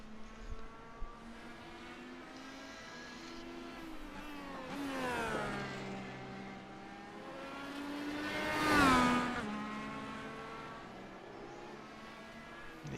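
IndyCar race cars lapping a track in a sim racing video game, with high-pitched engines revving and several cars sweeping past close by, their pitch rising and falling as they pass.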